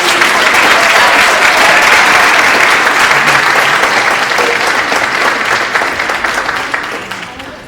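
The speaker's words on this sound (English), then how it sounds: "let's extend one more round of applause to our 2 teams." Loud, sustained audience applause fills a hall after a speech competition final, dense clapping holding steady before tapering off slightly toward the end.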